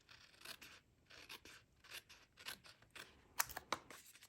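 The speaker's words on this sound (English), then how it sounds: "I'm just going to use scissors so that I can cut around this" Scissors snip around a paper card piece close by, a series of short, crisp cuts and rustles in an uneven rhythm, quiet and without talk.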